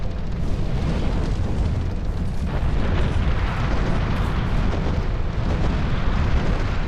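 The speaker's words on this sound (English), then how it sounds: "So that's what we'll do, we'll set it on fire" A windmill set ablaze in Dark Souls 2 gives a loud, steady roar of fire that holds at an even level from start to end, dense and rumbling with no pauses.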